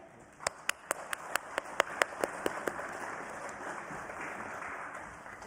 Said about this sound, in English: Please give Thrayon a round of applause.